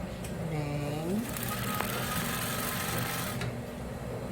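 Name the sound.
sewing machine stitching a seam on a Christmas cushion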